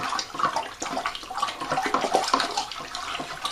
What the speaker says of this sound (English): I'm going to rapidly stir as I gradually pour.